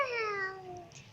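A child imitates a cat's meow with a single short, high, wavering call that slides downward, heard close and alone.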